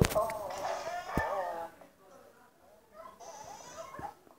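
A small dog in the video game Luigi's Mansion 3 whimpers with a thin, high, wavering whine that is loudest at the start and then trails off into quieter, faint cries.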